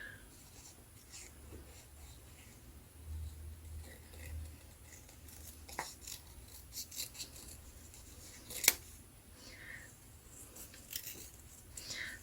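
Scissors cutting a leaf shape out of paper for a decorative embellishment, with quiet intermittent snips and rustles, a few sharper clicks, close and faint, without speech.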